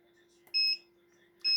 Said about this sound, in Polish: Sygnał dźwiękowy.